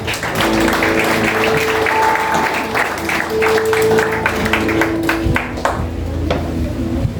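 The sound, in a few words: church congregation applauding loudly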